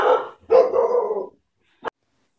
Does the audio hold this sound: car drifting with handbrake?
no